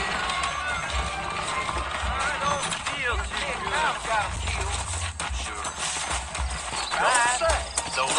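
Horse hooves clip-clopping in the video game Red Dead Redemption, a steady run of footfalls that continues under someone talking and background game sound across the whole stretch.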